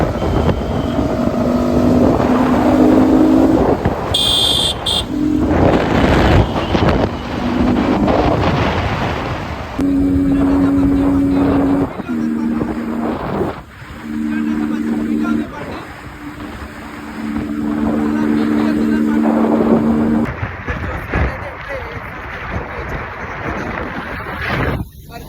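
Motorbike ride on a road in cold, windy weather near Narsapur: a loud, continuous engine drone under rushing wind buffeting the microphone, with engine tones rising and falling and a voice talking over it at times.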